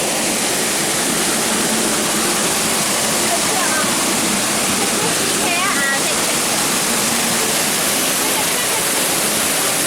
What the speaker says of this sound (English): There is cold water in Trinidad.